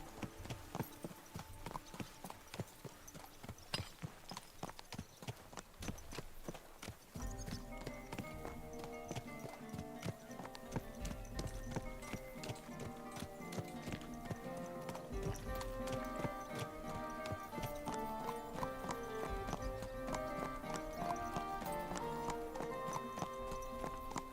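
Steady clip-clop of horse hooves trotting in the video game Kingdom Come 2, rhythmic and close, over continuous music with occasional faint voices.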